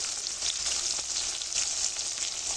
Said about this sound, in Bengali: এই তেলের মধ্যে আমি টমেটোগুলো দিয়ে দেব আদা বাটা রসুন বাটা জিরা বাটা হলুদ